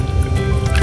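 Water is poured into a cooking pot over offal for a family Sunday lunch, giving a brief, close, steady splashing fill with no talk.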